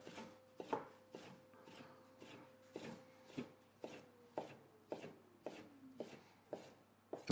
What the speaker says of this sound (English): All nice and thinly sliced, okay?